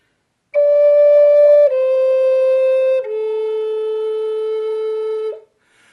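A Native American flute plays a motive variation that returns home, with three clear sustained notes stepping downward, the last held longest before a brief upward flick at the end, close and alone.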